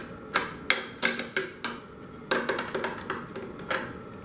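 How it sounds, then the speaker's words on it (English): Sharp metallic clicks and taps from a 3/8 inch wrench tightening a screw on a KLR650 motorcycle dash, coming in two irregular bursts of close, distinct strikes with brief pauses and no talking. "You just need to take the wrench and give it a little tighten."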